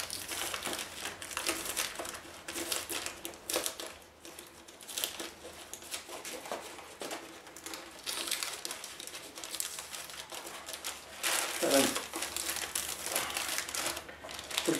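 Wax paper crinkles and crumples in bursts during an Art Hobby IBIS electric glider wing repair, close and fairly steady across the stretch, with a louder rustle near the end and no talking.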